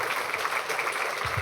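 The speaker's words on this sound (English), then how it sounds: "Let's give another round of applause to all the speakers." An audience applauds workshop speakers at a robotics event, a dense, steady patter of clapping that fills the short moment without a break.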